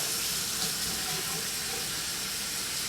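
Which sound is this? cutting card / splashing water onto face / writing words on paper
splashing water onto face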